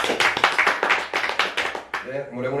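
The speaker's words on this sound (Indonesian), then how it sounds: "Saya tepuk tangan dulu buat DJ." A short burst of close, rapid hand clapping for a DJ at a gathering in Jakarta, ending as a voice begins speaking.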